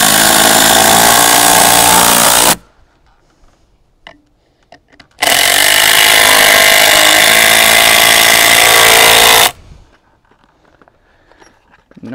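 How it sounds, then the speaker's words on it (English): An impact drill tacks a board in place while framing trusses for a milking parlor, with two loud, sustained bursts of hammering whir, each a few seconds long, separated by quiet gaps with faint handling noises. "Noisy impact drill."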